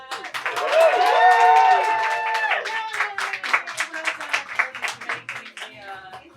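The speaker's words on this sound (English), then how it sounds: "Let's clap for Jack." A small group claps to welcome a newcomer named Jack in a call centre, with distinct, separate hand claps. Voices cheer and call out over the first part, and the claps carry on alone afterwards, loose and uneven.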